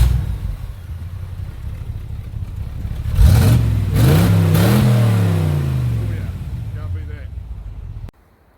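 A Chevy-Toyota combination engine revs up in a few rising bursts that swell loudly over a steady idle, then settle back down before cutting off abruptly.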